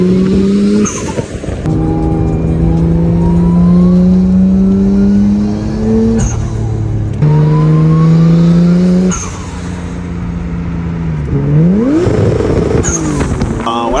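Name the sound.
car titanium exhaust revving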